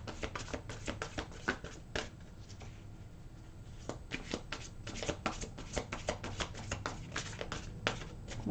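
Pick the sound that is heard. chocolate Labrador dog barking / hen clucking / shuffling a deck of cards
shuffling a deck of cards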